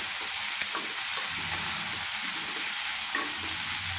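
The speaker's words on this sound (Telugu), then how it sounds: "ఇప్పుడు మనం కట్ చేసి పెట్టుకున్నాం క్యాప్సికం ముక్కలు, టమోటా ముక్కలు. వీటిని ఇలా కలుపుకోవాలి." Capsicum and tomato pieces sizzle steadily in a hot pan while a spoon stirs them, with soft scraping knocks now and then over the constant close frying hiss.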